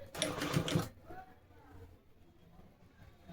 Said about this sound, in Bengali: এরপরে তোমাদের এই সাইড থেকে ধরে এইখান থেকে সেলাইটি স্টার্ট করতে হবে।